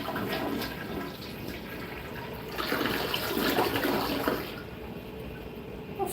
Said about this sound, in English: I'll flush the Panora with a pull up and release